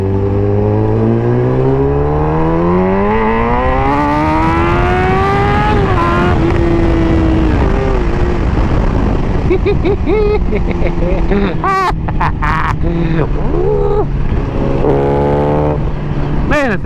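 A motorcycle engine revs hard up close, its pitch climbing and falling through repeated throttle blips over a loud, continuous roar.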